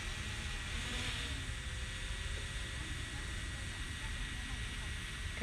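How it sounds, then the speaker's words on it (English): Drone flying near Marblehead Lighthouse at sunset, a steady whirring buzz of propellers heard continuously, with a voice talking faintly in the background. "now I'm going to back the drone up"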